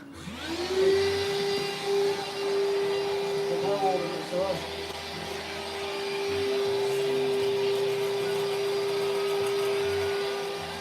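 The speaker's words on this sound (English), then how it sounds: "it not only hoovers, it also works as a bit of a dust blower" A cordless vacuum cleaner run as a dust blower in a stone carving workshop whines with a steady high motor tone, close and loud, rising slightly as it works, with a few muffled thumps in the background.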